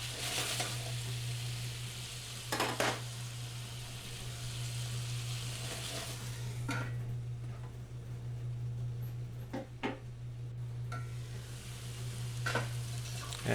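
Beef and tomatoes sizzle steadily in a frying pan while being stirred, with a constant hiss broken by several sharp scraping bursts of the utensil against the pan. No one speaks.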